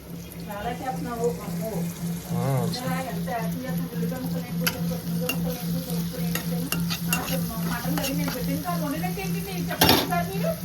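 Mutton curry with onions frying in a pan, with constant spoon stirring and clinking over a sizzle while people talk throughout, a voice humming steadily beneath.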